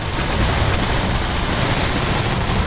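Dense, continuous barrage of game gunfire and booming blasts, loud and steady throughout with no pauses.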